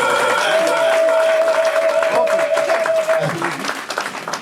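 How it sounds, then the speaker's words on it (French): Wedding guests break into dense, sustained applause and crowd noise, with a voice and a steady held tone running over the clapping before it thins out. "On applaudit s'il vous plaît"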